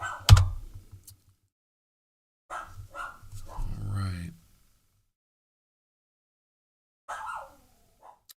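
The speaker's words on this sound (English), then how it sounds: "I don't know if you guys could hear my dogs." Dogs bark sharply once up close, then several more barks and whines follow after a pause, with a final short bark later amid quiet stretches.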